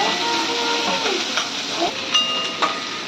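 Onion and green chillies roasting in a pan for a dry sukat (dried fish) dish give a steady, loud frying hiss, broken by a few faint clicks and scrapes.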